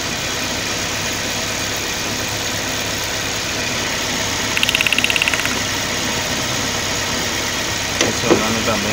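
A steady engine idle drones loudly throughout, with a brief rattling flutter midway and a faint clunk near the end.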